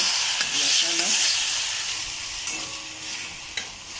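Masala frying in a pan for dal kofta curry, a loud, steady hiss of sizzling oil with a few soft clicks of stirring and no voices.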